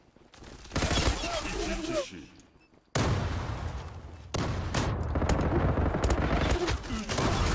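Rapid automatic gunfire in the online shooter Zula comes in loud, dense bursts. There is a short drop in the firing, then heavy, sustained shooting and impacts resume.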